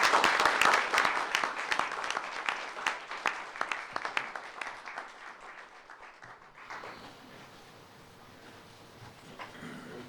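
Audience applauding school board members at a regular board meeting, a dense roomful of clapping that is strong for about six seconds, then tapers off and fades into quiet room tone.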